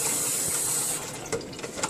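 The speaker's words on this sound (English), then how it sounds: "Water is well draining out." Water drains out of a plant container for a rock penjing planting, a steady hissing trickle that eases into softer irregular dripping and splashing, close and alone without speech.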